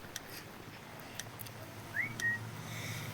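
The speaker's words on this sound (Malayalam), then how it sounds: "ഞങ്ങൾ വിസിൽ വിളിക്കുന്നുണ്ട്" A single short rising whistle tone followed by a brief level note in a Roblox game, faint and alone over low background noise with a few soft clicks.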